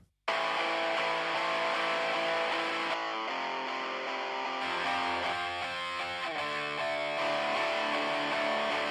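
Two distorted electric guitars, each playing different strings with a different tone and panned hard left and right, form a dense, sustained, loud wall of heavy rock sound with no voice.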